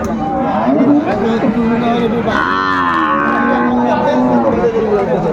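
Cattle lowing at a busy livestock market, with long drawn-out moos rising above steady crowd chatter and people talking nearby.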